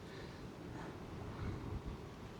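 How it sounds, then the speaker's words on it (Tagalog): Strong typhoon wind buffets a rooftop, a faint, continuous low rumble and hiss that swells briefly midway, with no rain and no talking. "at ang lakas po ng hangin"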